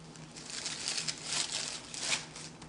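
Plastic bag holding rested, sticky dumpling dough being handled, giving a steady close crinkling and rustling throughout with a few louder crumples.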